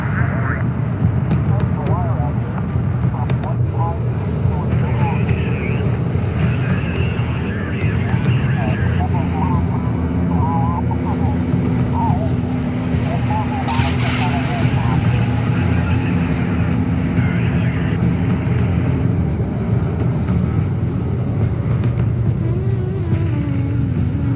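A spacecraft in a Homeworld: Deserts of Kharak cinematic comes in to land with a sustained, loud engine roar and rumble, while radio voices talk over it.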